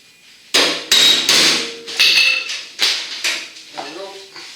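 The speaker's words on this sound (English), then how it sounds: "Got a brass hammer under here." A brass hammer strikes metal on a GMC Sierra fender job, about eight sharp ringing blows in uneven rhythm, close and loud, each decaying with a metallic tone.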